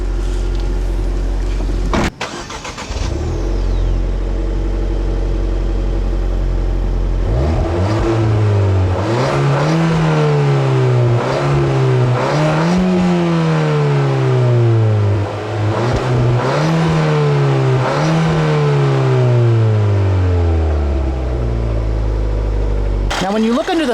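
A 2014 Ford Fiesta ST with the 1.6-liter EcoBoost engine revs repeatedly, the pitch rising and falling in a series of loud, close pulls over a steady idle.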